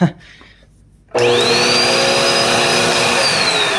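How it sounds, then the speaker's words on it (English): A clogged upright vacuum cleaner with a stretched hose, bought secondhand, switching on after a short pause and settling into a loud, steady whine with a rising pitch sweep as the motor spins up. "That motor sounds off when it started up. Oh wow, clogged."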